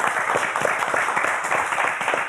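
Steady applause from a live audience at an evening show marking International Designer's Day in Gomel, dense continuous clapping held at an even level for a couple of seconds.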